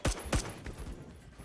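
Gunfire in Phantom Forces, an online first-person shooter: two sharp, loud shots in quick succession, then fainter echoing shots and a low rumble.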